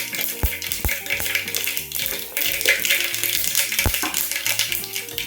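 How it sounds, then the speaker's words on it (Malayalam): Mustard seeds popping in hot oil in a home kitchen, sharp irregular crackles and taps over a steady sizzle, close and fairly loud, with no talk. "അപ്പോൾ കടുക് പൊട്ടുന്നുണ്ട്."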